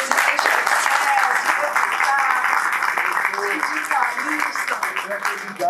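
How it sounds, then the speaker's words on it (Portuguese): Audience at a political meeting applauding a guest, dense steady clapping throughout, loud and close, with someone speaking over it. "Aplaudir nosso companheiro."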